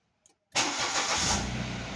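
A car engine catches abruptly after a brief starter whir, then settles into a loud, steady idle close by, with no voices over it.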